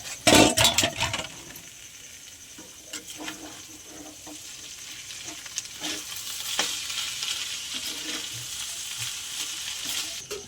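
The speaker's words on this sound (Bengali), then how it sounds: "ভালো করে নেড়ে নেব।" Banana flower and mung dal being stirred in an oiled pan, with steady frying sizzle throughout, a loud scraping burst at the start and intermittent spoon scrapes and clinks against the pan.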